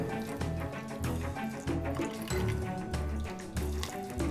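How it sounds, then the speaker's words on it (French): A pot of water pours into plaster mix for a Peppa Pig moulding kit, a soft continuous watery splashing and gurgling with a faint periodic low knock, quiet and close, no talking. "Et maintenant, on va rajouter de l'eau. Et on va mettre un pot d'eau."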